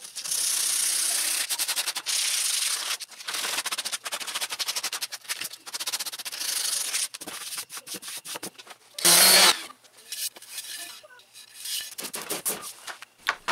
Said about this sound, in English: I did a quick sanding on the face, and I hand sanded the sides